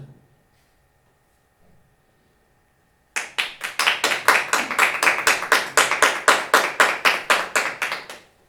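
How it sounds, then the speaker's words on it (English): Sharp, evenly spaced hand claps, about twenty in a row, begin abruptly after a few seconds of near silence. They sound close and clear, with no voices. "Audiences are allowed to make is, of course, applause."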